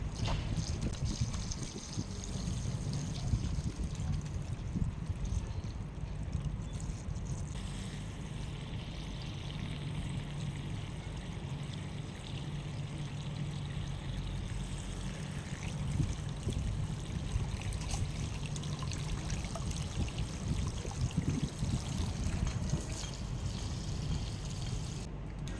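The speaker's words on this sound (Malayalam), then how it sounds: "അപ്പോൾ ഇത് മൊത്തം ഞാൻ വെള്ളം ഒഴിച്ച് നിറയ്ക്കാൻ പോവാണ്" Water is poured steadily into a pot holding a lotus tuber being repotted, a continuous close splashing stream that runs for the whole stretch with no talking.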